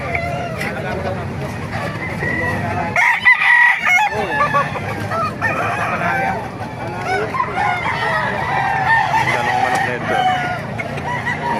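A rooster crows and clucks amid other fowl at a Baliuag tyangge market, with people talking throughout over the busy background.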